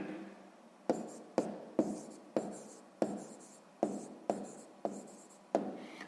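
Pen writing on paper during a sixth-grade math exercise, a series of quiet, close scratchy strokes, each starting with a sharp tap and fading, repeating about ten times at an even pace.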